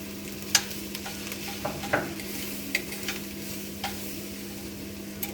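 Carrots and onions sauteing in a pan with oil, a low steady sizzle under occasional soft clicks and scrapes of a spoon stirring, close and fairly quiet with no talking.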